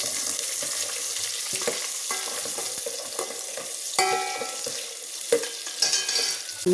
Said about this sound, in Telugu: తర్వాత ఉల్లిపాయల ముక్కలు వేద్దాము ఇవి బాగా వేగాలి